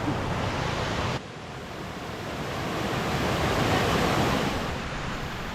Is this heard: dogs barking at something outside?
no